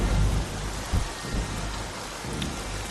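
Rain falls steadily in a continuous hiss while low thunder rumbles swell near the start and again around the middle, no voices present.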